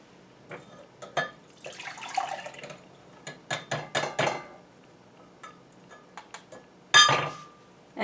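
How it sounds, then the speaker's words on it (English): Water is drained from mushrooms in a kitchen, heard as uneven splashing and trickling with scattered clinks of a strainer or pot, ending in a louder burst of pouring. "drain the mushrooms"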